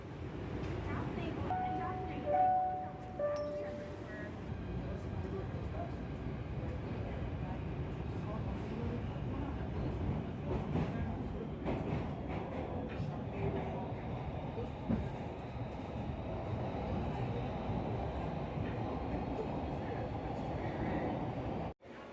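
A PATH train running through the tunnel under the Hudson River in New York toward World Trade Center, with a continuous low rumble and rattling wheel noise, some brief tonal squeals early on, and people talking over it.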